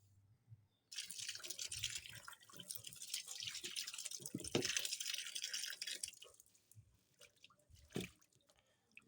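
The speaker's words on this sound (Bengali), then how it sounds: "তো জাম্বুরাটাকে কিন্তু আমি ভালো মতো ধুয়ে নিলাম" Running tap water splashes over a pomelo being washed by hand in a sink, a close, uneven stream with drips and rubbing that stops toward the end.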